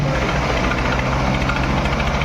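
A steady, close tractor engine idles with a low rumbling throb that holds an even pitch throughout, with no voices.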